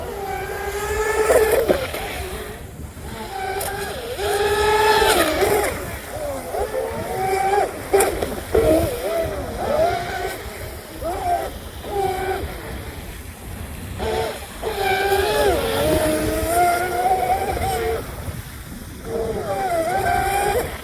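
A twin-motor counter-rotating RC Deltaforce boat with .130 motors on 4mm flex cables runs steadily across water, its whining motor drone rising and falling continuously under the wind and someone talking throughout.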